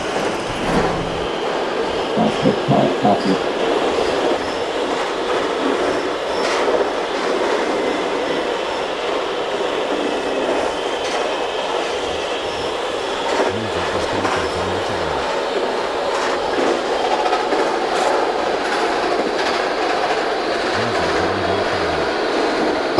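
Subway train on the N line pulling out of Queensboro Plaza in the openBVE metro simulator, a steady rolling rumble with rail noise and occasional clatter, alone and fairly loud throughout.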